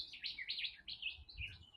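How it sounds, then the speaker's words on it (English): Small birds chirp and tweet in quick, lively bursts beside Wentworth Falls Lake in the early morning, fairly close and clear over a quiet background. "I'm just listening to those birds,"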